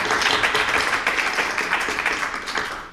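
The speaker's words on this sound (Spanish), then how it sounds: "un fuerte aplauso para ellos" Audience at a Día de la Dona 2023 press conference giving a strong round of applause, dense steady clapping that slowly fades.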